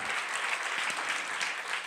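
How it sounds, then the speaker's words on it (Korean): Sustained applause from a church congregation at a Friday revival prayer meeting, dense steady clapping throughout without pauses. "하나님께 영광의 박수 올려드리겠습니다"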